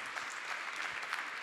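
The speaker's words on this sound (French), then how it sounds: "On applaudit, s'il vous plaît." An audience applauding at a public art-and-health debate event, a brief, faint spatter of clapping heard from a distance.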